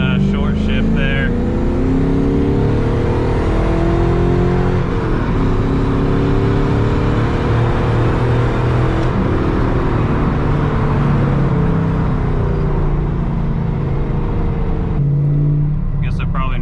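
An LS-swapped Chevrolet S10 roars on a dyno, the V8 revving hard and steadily for a long sustained pull, loud and close, with one brief dip partway through as it short-shifts.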